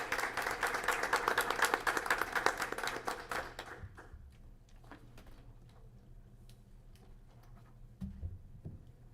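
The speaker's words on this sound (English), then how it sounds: "a big hand of applause" A crowd at a board meeting claps and applauds loudly for about four seconds, then the clapping dies away to scattered taps and quiet room noise.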